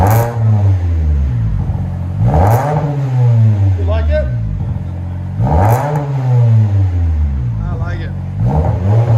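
A 2019 Toyota Camry 2.5L four-cylinder with dual exhaust, Vibrant bottle resonators and resonator delete revs up several times in rising, falling sweeps, loud and close, with a brief exchange of voices over the engine.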